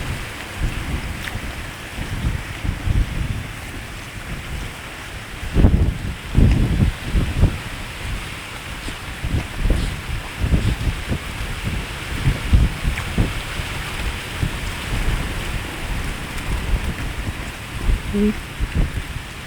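Steady outdoor wind gusting across an open-air setting where a large salt-crusted fish is being grilled, a broad rushing roar that swells and fades over the whole stretch, with low buffeting thumps and faint voices in the background.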